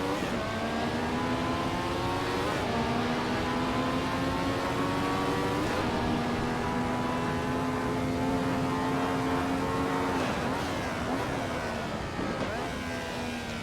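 Ferrari 312T Formula One race car in the racing game Assetto Corsa, its engine wailing loudly through repeated upshifts, each gear climbing in pitch before a brief dip, continuous and close with no talking.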